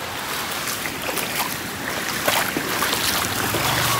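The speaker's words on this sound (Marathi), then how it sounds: "ह्याला म्हणतात तामणी घाट वॉटरफॉल।" Tamhini Ghat waterfall pours in a steady broadband rush of falling water, loud and close, continuous throughout with no voices.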